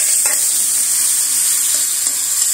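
A spice paste of cumin and coriander powder mixed with a little water fries in a hot pan for a curd paneer dish, giving a loud, continuous hiss and sizzle with a brief stirring scrape.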